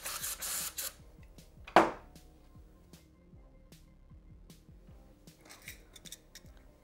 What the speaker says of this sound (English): I have some carb cleaner, so what you want to do is just spray it in there.